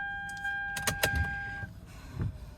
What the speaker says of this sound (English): So key into the ignition